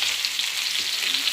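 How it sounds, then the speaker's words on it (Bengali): Small onions frying in a pan for chicken lotpoti, a loud, dense, even sizzle that crackles steadily throughout with no talking. "আমরা ছোট পেঁয়াজ দিয়ে দিলাম"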